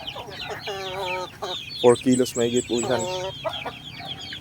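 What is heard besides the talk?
rooster clucking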